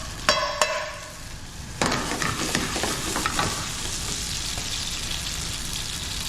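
Chopped fresh tomatoes drop into hot extra virgin olive oil in a pan with a couple of sharp clatters, then a loud, steady sizzle and frying crackle continues close up.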